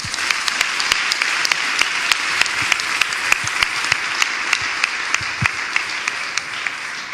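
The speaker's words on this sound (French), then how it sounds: "Est-ce qu'on acclame l'intelligence?" A church audience applauding a question, dense sustained clapping from many hands filling the room, loud and even throughout with a few sharper claps standing out.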